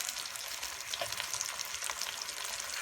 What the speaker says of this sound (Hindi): और हम मसाले को अच्छी तरह से भून लेंगे 5 मिनट के लिए मीडियम फ्लेम पर।